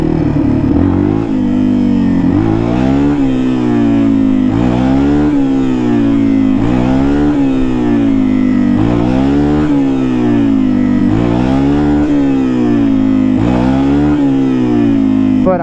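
Motorcycle engine geared low, revving repeatedly during power wheelie practice, each rev swelling and falling in a steady cycle, loud and close throughout with no talk.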